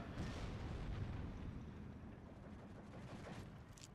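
Artillery fire in the Steel Division 2 battle game: low rumbling booms rolling in the distance, fairly quiet and continuous, with no clearly separate shots.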